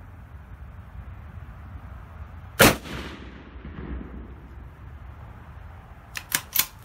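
A rifle fires from a Magpul bipod: one sharp, loud shot with a short echoing tail, followed later by a quick cluster of three fainter cracks against quiet outdoor background.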